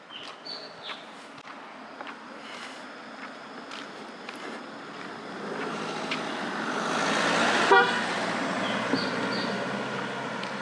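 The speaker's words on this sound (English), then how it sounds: "I'll stop speaking whenever there is a car passing by because I don't have a mic and it makes so much noise." Car passing on a hillside road near Lamb's Rock in Coonoor, a soft distant rush of engine and tyre noise that swells to a peak and eases off, with faint birds and outdoor ambience around it.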